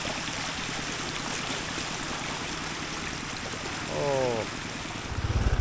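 Storm floodwater rushes across a road near Nong Bok on the way to Hat Chiang Di, a loud, continuous churning roar. A low engine-like rumble swells in near the end.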